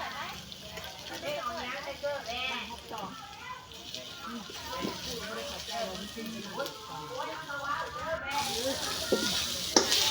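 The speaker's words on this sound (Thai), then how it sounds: "เอาเผ็ดที่เฮาตำไว้ลง แล้วก็เจียว จนได้ที่จนน้ำมันแห้งพอละ" Pounded chili paste fries in hot oil in a pot with a steady crackling sizzle and occasional stirring, close by, while people talk and children can be heard in the background.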